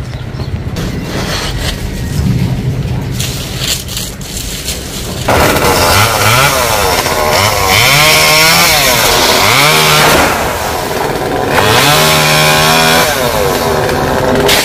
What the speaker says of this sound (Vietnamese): sử dụng máy cưa xăng.